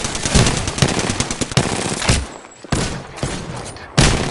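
Rapid automatic gunfire from a PS4 shooter game, loud bursts and fusillades in dense repeated volleys with brief pauses, sharp thuds cutting through a busy battle mix.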